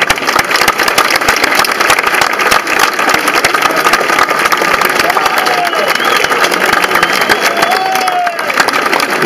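A large outdoor crowd at a town inauguration in Béziers applauds. Dense, continuous clapping fills the clip at a strong, even level.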